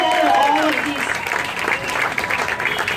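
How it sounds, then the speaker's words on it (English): Audience applause at an outdoor rally, a crowd clapping and cheering with some voices rising over it, loud and continuous through the whole stretch. "Another round of applause for that."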